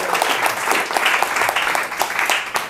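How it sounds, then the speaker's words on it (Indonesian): A church congregation claps loudly during a sermon, a dense burst of rapid applause close by with no voices over it. "Tepuk tangan, jangan tanggung-tanggung."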